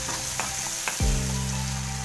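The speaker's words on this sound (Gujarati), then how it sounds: "પછી જે આપણે ટમેટા ક્રશ કરીને લીધેલા છે તે એડ કરીશું, તેને આ રીતના હલાવતા રહીશું" Crushed tomatoes hit a hot pan for a sprouts curry with a sudden loud sizzle that keeps crackling steadily as they are stirred, following a few light clinks from the pan.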